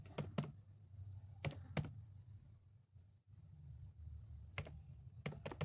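Keyboard typing while searching for a NetHunter app store in a phone browser during a Kali Linux install on Android: a few short bursts of quick, moderately close key clicks separated by pauses, with no talking.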